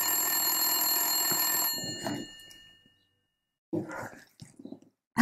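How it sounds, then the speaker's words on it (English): A telephone rings with a bright, sustained electronic bell tone for almost two seconds, then stops; a few soft thumps and handling sounds follow in the quiet. "I just have to pretend to take this fake phone call."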